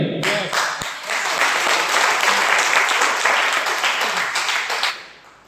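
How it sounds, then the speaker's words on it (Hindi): Audience applause fills a hall during a motivational talk, steady and loud for about five seconds before quickly dying away, with no speech over it. "आपने सपना पूरा नहीं किया, इसमें ताली लगाने की क्या बात है?"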